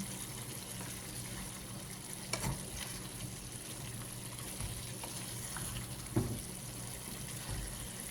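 Chicken liver frying in a pan gives a quiet, steady sizzle while being stirred, with a couple of soft utensil scrapes and clinks against the pan.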